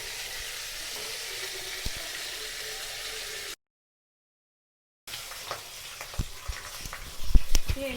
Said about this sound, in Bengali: আমি এই প্রথমবার মাছ ভাজছি, ফার্স্ট টাইম